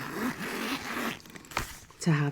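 A zipper on a Hobonichi Avec 2023 cover is pulled closed in a quick, close rasping run, heard amid soft-spoken talk.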